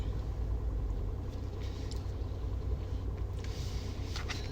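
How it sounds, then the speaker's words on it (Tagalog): A car drives past, a low, faint rumble with steady road noise heard from inside a moving vehicle, with no talking. "May parating na sasakyan"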